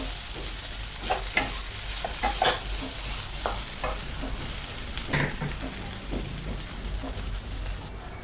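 Steamed brinjal (eggplant) is stirred in a hot pan. A spoon scrapes and knocks in irregular bursts over a constant soft sizzle, with no talking.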